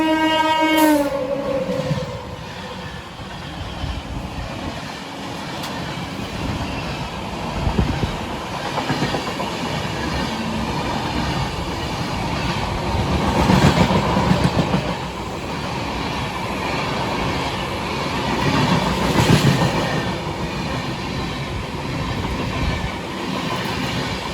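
A special train hauled by a WAP-7 electric locomotive rolls steadily along the rails, with continuous wheel rumble and clatter and two swells in loudness as cars pass close by.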